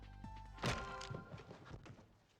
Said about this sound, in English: something falls with a loud thud.